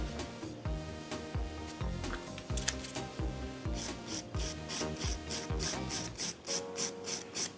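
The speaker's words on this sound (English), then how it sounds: "I just had a little bit of an area that needed refining there, so I'm just going in with my hand file." Hand file refining a nail with quick, rhythmic back-and-forth strokes, giving a dry scratchy rasp that repeats steadily and close up with no talking.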